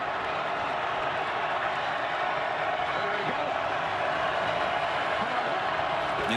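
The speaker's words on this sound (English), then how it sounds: "Crowd comes alive on 3rd down and 8." Stadium crowd roaring at a UFL football game between the San Antonio Brahmas and Michigan Panthers as the offense faces third down and eight, a steady dense wash of cheering that holds level throughout.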